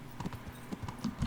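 A horse trots along a path in Kingdom Come: Deliverance, its hooves clip-clopping in a quick, steady rhythm, close and moderately loud, with no voices.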